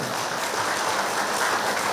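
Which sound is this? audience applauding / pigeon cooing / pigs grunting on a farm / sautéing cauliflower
audience applauding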